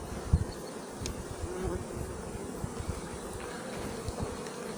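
Honey bee colonies at an apiary hum steadily and close by during a varroa mite treatment, a dense continuous buzz with no talking.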